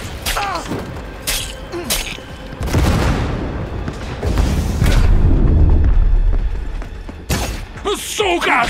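Cyberpunk 2077 video game combat: bursts of gunfire and heavy booming explosions and thuds, loud and clustered in the middle, with sharp impacts at the edges.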